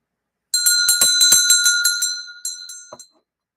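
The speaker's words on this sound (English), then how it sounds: "I'm going to ring the bell." A bright metal bell is struck by hand in a quick run of about a dozen close, ringing hits. Each one rings with a clear tone, and after a short pause a few last strikes follow and then it falls silent.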